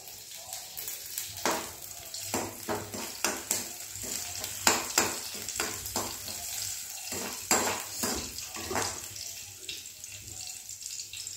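Capsicum frying in a pan for Maggi noodles gives a soft sizzle under repeated scraping and stirring strokes of a spatula against the pan, with occasional clinks and a faint voice in the background.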